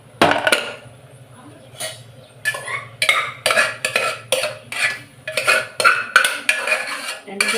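Dal being tipped into cooked spinach in a metal pot, then a spoon stirring and knocking against the pot in quick, rhythmic clinks and scrapes, close up.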